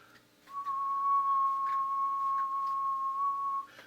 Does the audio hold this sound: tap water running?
no